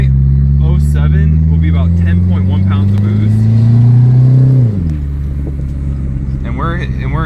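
A turbocharged classic car pulls hard at wide open throttle, its engine note climbing steadily for several seconds and then dropping sharply as the throttle closes, loud and close, with people talking over it.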